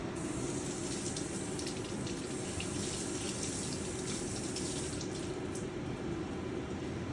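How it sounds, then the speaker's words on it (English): Kitchen tap water runs steadily over asparagus being rinsed, an even hissing splash that stays constant throughout, close up and with no voices. "Give it a quick rinse."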